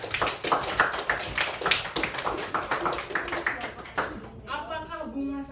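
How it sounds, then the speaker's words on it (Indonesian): Classroom applause for a student, a burst of quick rhythmic handclaps from a group lasting several seconds before fading, followed by a voice speaking. "Tepuk tangan buat Dwi dulu"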